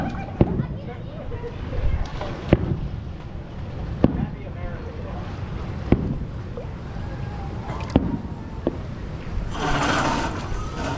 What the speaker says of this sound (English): Watching the fireworks.